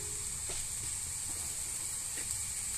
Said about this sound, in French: vous laissez cuire un peu la viande